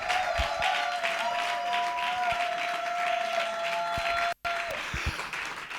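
Warm applause from a studio audience welcoming a singer on an acoustic music show, continuous clapping with a held whistle-like tone over it and a brief dropout near the end.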